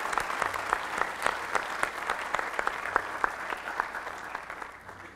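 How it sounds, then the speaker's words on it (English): Lecture audience applauds committee members at an astronaut Stephen G. Bowen lecture, many hands clapping in a dense, even patter that carries steadily before gradually fading toward the end. "Let's give these committee members a round of applause"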